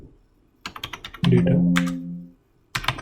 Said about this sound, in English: if I run this data hide.py by typing py